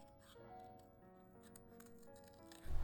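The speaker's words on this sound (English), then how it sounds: "I just fussy cut those out with scissors." Scissors snip out small paper critter shapes for handmade teacher thank-you cards, with faint, quiet cuts in a steady rhythm against a soft background hum and a louder thump at the end.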